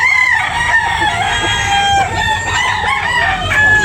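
Fighting roosters for sale at a Tabunok, Talisay market crow loudly and repeatedly, several birds overlapping close by, with clucking and a busy crowd murmur underneath.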